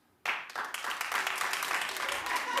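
Clapping from a studio audience on a daytime talk show breaks out abruptly after a moment of quiet, then continues as a fairly steady, moderately loud patter of hands to the end.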